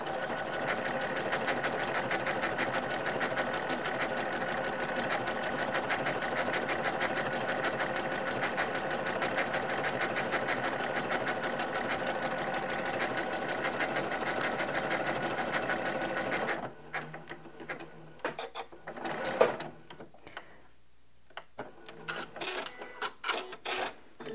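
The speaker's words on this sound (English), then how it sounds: "I'm just going to stitch a little bit of it so we can take a look and see how that stitch is being formed." A Janome M17 sewing machine running steadily while it sews decorative stitch D33, a loud close mechanical whir lasting about seventeen seconds before it stops, followed by quiet handling clicks and rustles.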